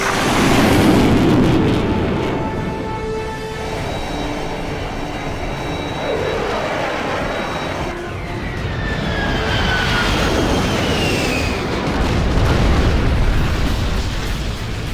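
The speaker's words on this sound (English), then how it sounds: "Launching airstrike." Airstrike explosions in the Generals Zero Hour strategy game, heavy rumbling blasts over a dense roar with aircraft-like whines sweeping across, loud and continuous with no speech.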